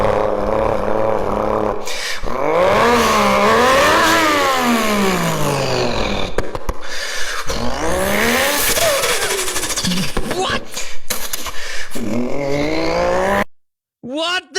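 A single-turbo car engine revs hard and loud, the pitch repeatedly climbing and falling in long sweeps before cutting out abruptly near the end.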